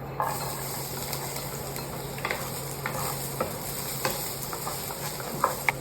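Garlic and ginger fry in hot oil in a pan for a chicken curry, giving a steady close sizzle with scattered soft scrapes and taps of stirring throughout, no voices.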